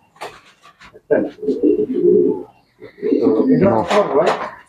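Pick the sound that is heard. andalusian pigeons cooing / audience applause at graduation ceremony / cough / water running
andalusian pigeons cooing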